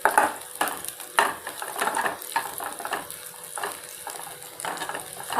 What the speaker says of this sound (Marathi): मी न्यूट्रेला तळून घेते छान